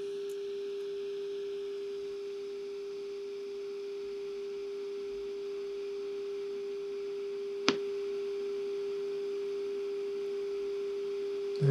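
Steady pure test-signal tone received on a Nordmende Super 250-9 radio under repair, humming continuously through a low bed of static, with one sharp click partway through and a brief bump at the end.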